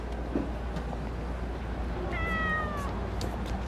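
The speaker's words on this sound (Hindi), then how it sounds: "ये बिल्ली यहाँ अक्सर आती है ना?" A single cat meows once, a short drawn-out cry standing out over a steady low background hum.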